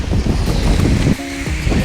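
A strong sea current and surf churn loudly and close, with continuous rushing water and buffeting wind noise. A brief tonal sound rises partway through.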